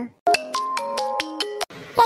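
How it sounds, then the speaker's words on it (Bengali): A phone ringtone plays a quick melodic run of bright electronic tones, loud and close, cutting off after under two seconds with a brief pause midway. "এই সময় আবার কে ফোন করলো?"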